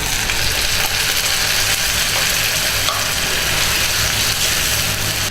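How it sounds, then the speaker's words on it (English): Onion, garlic and ginger paste frying in a hot pan after roasting, a steady loud sizzle with stirring scrapes throughout, no voices. "now we are putting the paste which we made"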